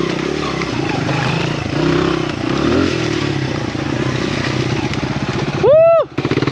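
A Honda XR100R dirt bike rides an enduro course in snowy, wet conditions, its engine droning steadily with clattering and a rising rev near the end, heard under a person talking.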